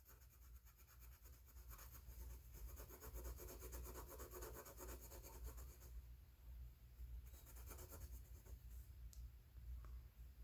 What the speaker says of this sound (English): I'm using a 4H value pencil.